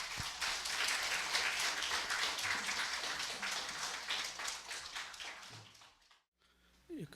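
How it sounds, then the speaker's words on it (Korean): An audience applauds as a professor is invited to the podium at a Korean philosophy lecture forum, dense steady clapping for about six seconds that fades out before a brief voice. "여러분 큰 환영의 박수 부탁드립니다"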